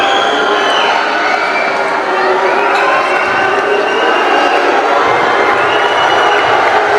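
Basketball arena crowd at an NBL Pilipinas finals game shouting at a player during a free throw: a loud, sustained roar of many voices with rising and falling jeers, steady throughout and close.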